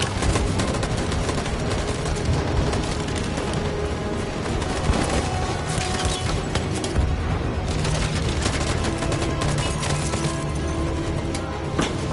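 Sustained heavy gunfire and explosions in the PS4 game Detroit: Become Human, dense overlapping bursts and booms filling all twelve seconds at steady high loudness with no pauses.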